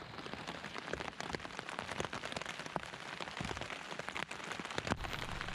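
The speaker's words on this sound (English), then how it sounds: "it just started raining" Rain falls on a tent in a dense, continuous patter of close drops, with sharper taps scattered through the steady drumming and no voices.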